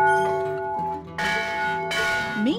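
An 1898 McShane Bell Company bell rings in two strong strikes, each leaving a long, bright metallic hum, with a short scraping sound at the end.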